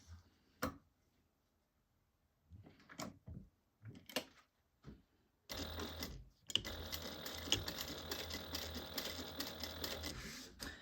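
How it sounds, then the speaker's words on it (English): Sewing machine running along a curved seam at a 3/8 inch allowance, starting after scattered clicks and handling noises, then humming steadily for about five seconds with a brief pause near the start. "we're going to sew around on the curved side at a 3/8 inch seam allowance"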